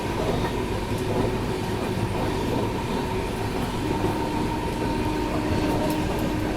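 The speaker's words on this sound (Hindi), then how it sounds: "देवास जंक्शन पे ट्रेन आई रुकी और अभी निकल रही है देवास जंक्शन से" Humsafar Express train pulling out of Dewas Junction, a steady rumbling roll with faint clickety-clack and wheel noise, continuous and fairly loud throughout with no voices.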